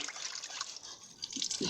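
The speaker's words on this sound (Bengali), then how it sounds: "এই তো মাছগুলো সুন্দর করে পরিষ্কার করে নিচ্ছি।" Water trickles and splashes faintly as fish are cleaned by hand, with soft dripping and a couple of small sloshes toward the end.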